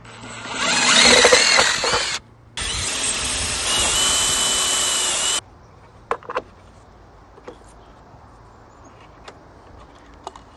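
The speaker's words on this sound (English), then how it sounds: "Now I can drill a hole in the center of this box" A power drill runs in two loud sustained bursts with a brief pause between, drilling a hole in the center of a box, followed by a few light clicks and handling knocks.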